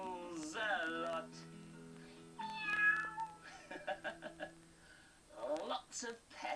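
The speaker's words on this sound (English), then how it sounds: "But most of all, he meows a lot." A pet cat meows repeatedly in several drawn-out, rising and falling cries, fairly close and clear against a quiet background.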